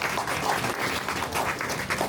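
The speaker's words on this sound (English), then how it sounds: "A huge round of applause again for our transit team" A crowd applauds the county transit team at a Bike to Work Day 2025 gathering, with dense, steady clapping that holds at an even level for about two seconds.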